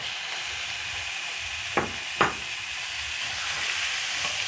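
Minced garlic, ginger and onion hissing softly in a pan, with two sharp sizzling bursts as pieces of steak hit the hot oil, then a steady low fry.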